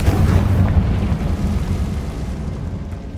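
Confringo fire spell in the Hogwarts Legacy video game: a loud, rumbling fiery blast that roars steadily and slowly fades over a few seconds, with no voices.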